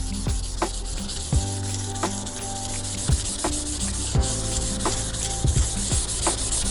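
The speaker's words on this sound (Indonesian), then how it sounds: "kita juga perlu diamplas dulu dengan nomor 400." Wood being hand-sanded with 400-grit sandpaper ahead of acrylic paint, a steady rubbing scratch that runs throughout with repeated back-and-forth strokes, close and alone with no talking.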